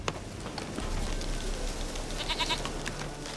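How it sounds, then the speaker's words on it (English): A goat in The Witcher 3 bleats briefly, a short wavering cry that rises over a steady in-game ambient background of wind and low rumble. "Here, goat."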